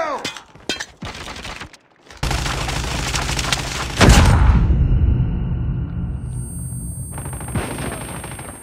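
In a video game, a grenade explodes among gunfire: sharp, close shots and crackling bursts come first, then a heavy, booming blast about four seconds in that rumbles and fades under continuing gunfire.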